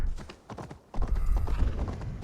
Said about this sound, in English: If my horse decides to go.